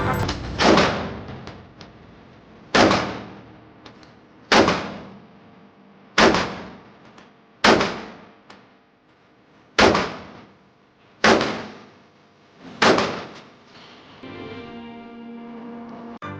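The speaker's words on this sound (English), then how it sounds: "let's go ahead and show you how this gun fires" A Springfield Armory TRP CC 1911 pistol in .45 ACP fires seven loud, close shots at irregular intervals of about one and a half to two seconds, each a sharp crack with a short ringing tail.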